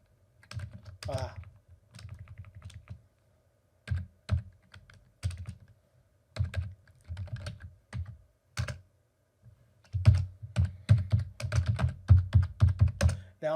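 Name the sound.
typing terminal commands on a computer keyboard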